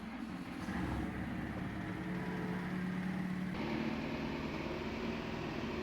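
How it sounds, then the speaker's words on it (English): Steady low engine drone of a tractor fitted with a front loader idling in a farming video game, continuous and even throughout with no talk. "It's also going to be the first time that I use my front loader with this tractor."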